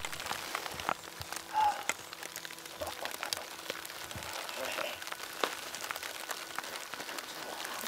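Steady rain pours down in the high mountains of Nepal at about 14,000 feet, a dense, even patter on surfaces with scattered louder drops, close and continuous throughout.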